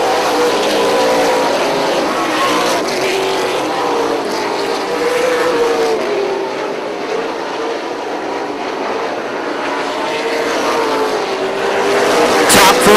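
Late model race cars racing around a track, a loud, continuous engine roar and whine from a pack of cars that holds steady and swells near the end.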